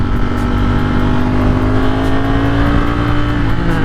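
Ducati Streetfighter engine held high in the rev range while riding, a loud, steady close-up drone with a slowly rising pitch and no pauses.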